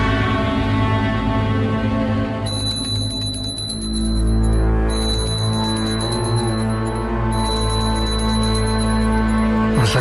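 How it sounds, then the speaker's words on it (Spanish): A small hand bell rings close by with a bright, sustained metallic tone that repeats in bursts over a constant low hum, and no one speaks. "Por si acaso la campanilla"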